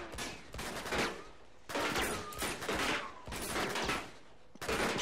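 Heavy gunfire from the Uncharted 2 video game comes in repeated loud bursts with short lulls between, sounding like sustained fusillades of automatic weapons fire.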